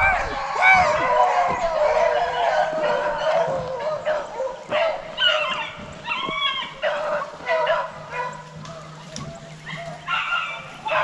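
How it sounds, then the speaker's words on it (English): A pet dog barks and yips repeatedly at mid distance during a beagle rabbit hunt outdoors, with people talking over and between the barks. "No, this is our dog barking."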